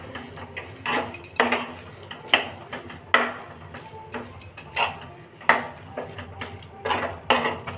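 A spoon scrapes and clinks against a dish while potato pachadi is mixed with grated coconut, in irregular close taps and scrapes.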